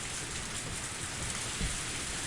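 Steady, dense rainfall in the Higurashi visual novel, a constant hiss of cold rain with no talk and a faint low rumble near the end.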